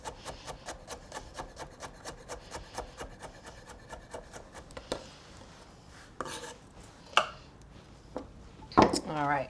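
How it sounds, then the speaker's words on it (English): Knife chopping cornichons roughly on a board, a fast steady run of crisp chops through the first half, then a few scattered clatters and scrapes of kitchen tools. "just gonna chop them up roughly before putting them in the processor"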